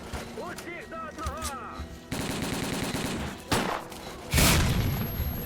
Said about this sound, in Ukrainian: Та в кого вони стріляють?